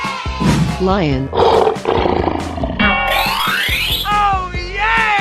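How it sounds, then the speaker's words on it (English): A lion roars in a 3D animal slide video game, a long rough growling roar mixed with a springy boing effect and rising sound effects, while someone talks excitedly over it. "Lion."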